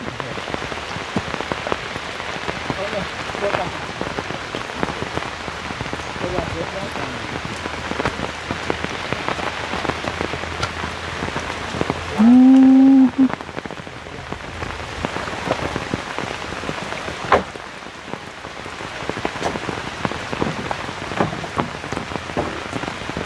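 Heavy rain pours steadily onto a surface throughout, a dense continuous hiss with a brief tonal sound partway through and no talking.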